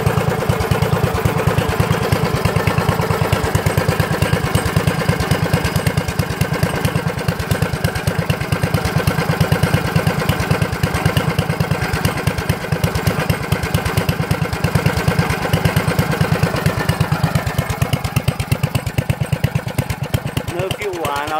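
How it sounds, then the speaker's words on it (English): A generator engine running on compressed biogas chugs steadily up close, a loud, even rhythmic putter with a mechanical clatter that holds constant throughout. "So there's a generator running on compressed biogas."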